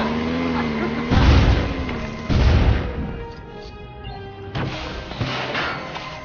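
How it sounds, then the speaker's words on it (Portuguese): Booming explosions in the Lego Batman 2: DC Super Heroes video game, a couple of heavy blasts with crashing debris, heard under casual talk from players. "agora eu vou explodir as paradas aqui"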